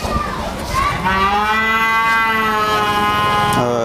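A young calf at a cattle farm lets out one long, loud, drawn-out moo that holds steady for several seconds before breaking off near the end.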